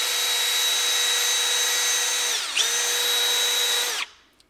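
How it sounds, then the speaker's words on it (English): A power drill spins a wire brush inside a metal pipe, a loud, steady whine that holds for about four seconds, dips briefly partway through, then cuts off abruptly. "I take a wire brush, put it in a drill, and I run it"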